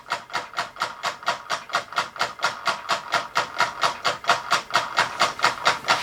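A small scratch-built solenoid beam engine runs at a steady rapid rhythm of sharp clacking pulses, close up and alone, for the whole clip.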